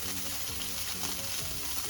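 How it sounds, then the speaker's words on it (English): Catfish fries in grease over high heat with a constant close crackle and sizzle, steady and bright, with no voices during the sound. "That's the grease frying."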